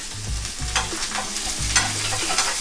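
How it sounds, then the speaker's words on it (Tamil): Chopped onion, green chillies and curry leaves fry in hot oil in a pan, a steady sizzle broken by repeated scraping stir strokes, close and fairly loud with no talk. "போட்டு கொஞ்சம் ஃப்ரை பண்ணிக்கலாம்"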